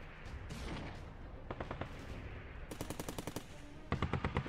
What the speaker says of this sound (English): Wouldn't like to be in that tank while it's being shot at.